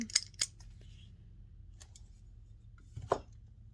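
Scissors cut fabric for a small handmade journal. A couple of crisp, close snips come at the start and another snip later, over quiet room tone.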